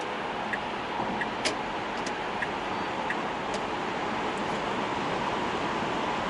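Tesla electric car cruising on a highway on Continental MC6 tires, heard as an even, constant rush of road and tire noise with faint light ticks now and then.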